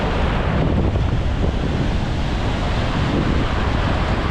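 Ocean waves break continuously on a New Zealand-style surf beach where beachworms are dug for bait, a loud, dense wash of surf mixed with buffeting wind on the microphone, no voices.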